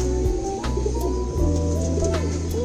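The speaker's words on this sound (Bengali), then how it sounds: "আর এটা হলো নর কবুতর" A male pigeon coos in repeated low, throaty calls, close by and fairly loud, with faint higher chirps in the background.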